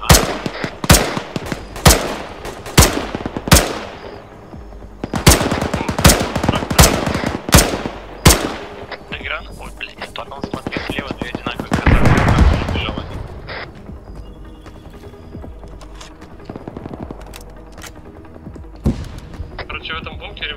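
Automatic and single-shot gunfire from an ArmA 3 match, a rapid burst of sharp cracks in the opening seconds, then scattered shots and a louder rumbling blast midway, with players talking over the fighting.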